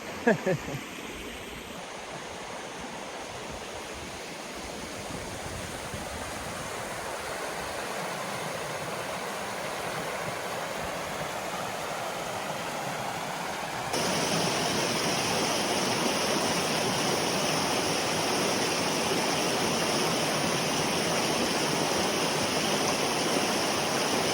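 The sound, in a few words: Stanley Creek water flowing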